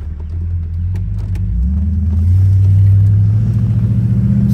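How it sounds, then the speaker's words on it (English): A deep, throaty 1968 Buick Electra 225 convertible engine rumbles steadily nearby, its pitch rising slightly as it revs, with no talking. "Let you hear the car."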